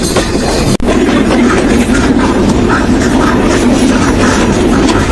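Rupsha Express, the number 728 train from Chilahati to Khulna in Bangladesh, running on rails with a loud, steady rumble and faint rhythmic clatter, broken by one sharp brief dropout near the start.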